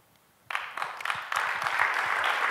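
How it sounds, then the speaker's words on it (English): An audience at a talk on reentry and healing breaks into applause after a speaker's story. Clapping starts abruptly from near silence and swells into steady, dense applause. "Round of applause."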